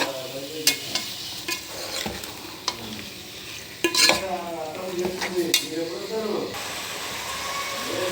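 One kilo of chicken stirred in a pan makes close, sizzling scrapes and clanks of the spoon against the metal, with a voice talking over the cooking.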